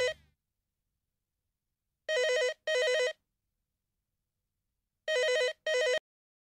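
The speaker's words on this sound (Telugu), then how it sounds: "అదిగో సత్యం, నువ్వు వెళ్ళి ఫోన్ చూడు" A telephone rings indoors in two pairs of electronic trills, each pair separated by a few seconds of silence, clear and moderately loud.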